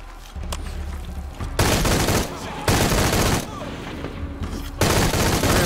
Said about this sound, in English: That's that goddamn machine gun.